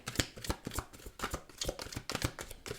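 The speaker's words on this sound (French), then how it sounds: "on a les cartes à mélanger quand même un petit peu" Tarot cards being shuffled by hand, a quick run of crisp riffling slaps and flutters close up with no talking.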